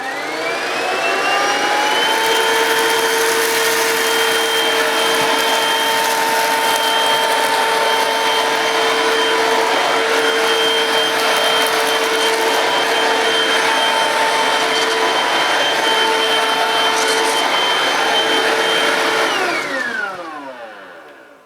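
Close, loud Vax Slim Vac Total Home cordless vacuum cleaner picking up dirt from the floor, a steady high whine with a strong tonal motor pitch that runs unbroken for about twenty seconds before spinning down at the end.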